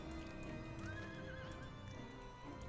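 A horse in the video game Final Fantasy 14 whinnies with a rising and falling neigh while hooves clip-clop steadily underneath, the sounds soft and fairly distant.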